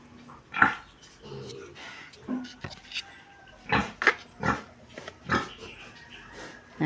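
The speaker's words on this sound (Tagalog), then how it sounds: "Iwawalay po ang mga biik ngayon." Pigs and piglets on a farm as they are moved to a new pen, with several short grunts and squeals scattered across the clip over a low background hum.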